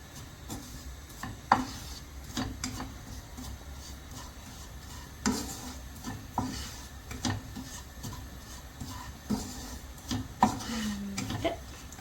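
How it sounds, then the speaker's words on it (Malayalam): A spoon scraping and stirring crab curry in a hot clay pot, with soft repeated rubs and occasional sharper knocks against the pot, quiet and close with no talking. "ഇത് നന്നായിട്ട് ഇളക്കി കൊടുക്കുക."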